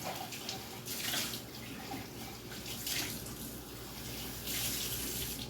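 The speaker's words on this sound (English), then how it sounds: "I'll get just a little bit of my water here, add a little cold water to it." Water running from a kitchen tap to heat canning lids, a steady splashing stream that swells in bursts, close and alone.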